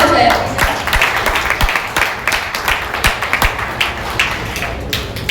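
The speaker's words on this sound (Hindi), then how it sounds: "उनके लिए एक बार तालियां हो जाए।" An audience claps at a session program, a steady patter of many hands in a fairly small room, with sharper individual claps standing out.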